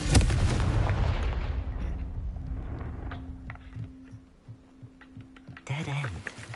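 A Confringo fire spell in Hogwarts Legacy bursts at the start with a loud explosive blast, then a low rumble fades away, and a second burst comes near the end.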